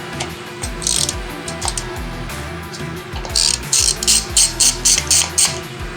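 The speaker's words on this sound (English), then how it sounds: "These are a 10mm socket. I'm using a 3/8 inch ratchet." A 3/8 inch ratchet with a 10mm socket loosening throttle body bolts on an engine, giving repeated close clicking pawl ratchets in short bursts with metallic gear chatter, no talking.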